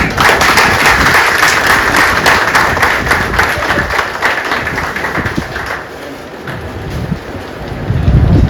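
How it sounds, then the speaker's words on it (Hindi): Loud applause from a crowd at a railway office farewell party welcoming the DRM, a dense clapping wash that eases midway and swells again, with faint voices underneath. "एक बार जोरदार तालियों से उनका स्वागत करें।"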